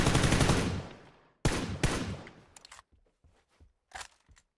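Gunfire in the battle royale game PUBG, with a loud sustained burst, then two more heavy shots that trail off into scattered quieter cracks and clicks, with no voices.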